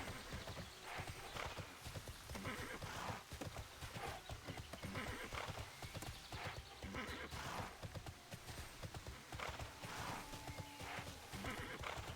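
Steady clip-clop of horse hooves at a trot with repeated whinnies and snorts in the video game TERA Classic, over a busy game background, loud and close throughout.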